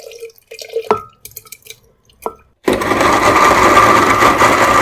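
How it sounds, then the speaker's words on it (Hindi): Kitchen blender grinding soaked apricots with water into a paste: a few drips and clinks of loading the jar come first, then the motor starts abruptly and whirs loud and steady to the end. "अब इस खुबानी को हम ब्लेंडर जार के अंदर डालेंगे और अच्छी तरह से इसको पीस लेंगे।"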